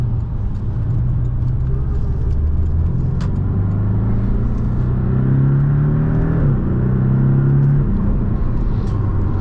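A 2018 Porsche 718 Boxster engine rumbles loudly and climbs in pitch as it accelerates through the gears, with a brief shift dip midway before pulling hard again.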